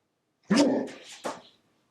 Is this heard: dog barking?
yes